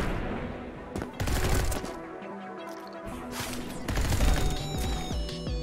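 Explosions and bursts of gunfire-like blasts in the video game Neon White, loud and sharp, over a driving electronic music track.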